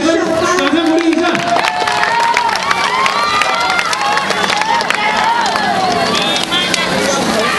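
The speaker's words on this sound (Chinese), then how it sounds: "我们给于志杰掌声鼓励一下" Spectators at a school high-jump attempt clap and cheer in a dense, steady burst, with children shouting and voices talking over the applause throughout.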